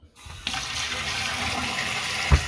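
Cold tap water runs steadily over an aquarium external filter being rinsed, a continuous close splashing stream with one brief louder splash near the end.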